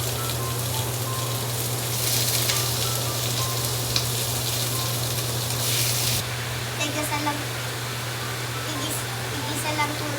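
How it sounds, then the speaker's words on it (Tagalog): Pork sizzles steadily while being sautéed in a pan, a constant hiss of frying under a low steady hum, with a person talking faintly over it. "Igisa lang po natin mabuti ang baboy."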